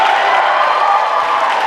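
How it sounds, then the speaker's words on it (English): A crowd at a Perth cosplay contest claps and cheers in a loud, dense, sustained roar that fills the whole moment, with no speech over it. "If you're a fan of pirates, give a big round of applause now."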